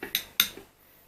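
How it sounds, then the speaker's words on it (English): A whiskey drink stirred in a glass, two or three sharp close clinks of a spoon against the glass in quick succession, then quiet. "stir it again for when I go back the other direction and try it"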